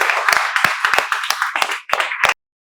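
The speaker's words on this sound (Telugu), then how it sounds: "మేమందరం చప్పట్లతో స్వాగతాన్ని తెలియజేస్తున్నాం" A small group clapping hands in welcome at a spoken English institute, about a dozen quick close claps in an uneven burst that stops abruptly into silence.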